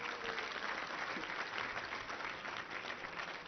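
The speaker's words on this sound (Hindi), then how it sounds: "इसके लिए भी आप लोग तालियां बजा दें।" Audience at an Ayurveda Day ceremony applauding a professor's award, steady continuous clapping from a crowd throughout, fairly distant and even.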